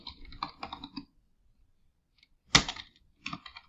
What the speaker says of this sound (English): I'm gonna type in press releases.